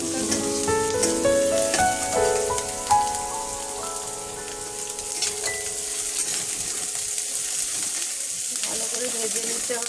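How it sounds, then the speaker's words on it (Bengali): Paneer frying with chopped green chillies in a pan, a steady close sizzle and crackle running throughout, with occasional scrapes and knocks of stirring and some faint tonal clinks early on. "সবগুলো একটু ভালো করে ভেজে নিতে হবে।"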